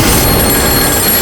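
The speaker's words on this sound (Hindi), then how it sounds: "ये फोन यहाँ कहाँ से आ गया?" A telephone rings loudly and steadily from start to finish in a horror drama scene, its bright electronic trill sitting over a dense, noisy background, with no voices heard.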